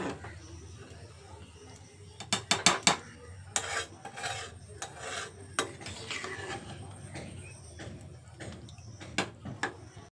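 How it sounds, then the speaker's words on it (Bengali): A spoon scrapes and clinks against a pot while khichuri is stirred with salt, giving irregular close metallic knocks and scraping, louder in the first half and then quieter, with no talking. "এবার আবারও খুব ভালো করে আরেকবার নেড়ে দিচ্ছি, যাতে নুনটা সব কিছুর সাথে খুব ভালোভাবে মিশে যায়।"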